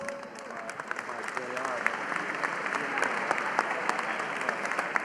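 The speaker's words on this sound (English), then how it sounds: "Folks, give yourselves a round of applause." Gala guests applaud themselves at a New York Edge fundraiser, steady, moderately loud clapping from a large room with scattered sharp claps standing out and faint talk underneath.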